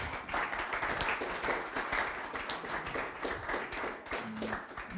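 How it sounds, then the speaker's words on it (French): Ceremony guests at the Eco Actions trophies applaud a prize with a continuous, even wash of clapping from a sizeable crowd, moderately loud and unbroken throughout, with no talk. "Et on peut applaudir"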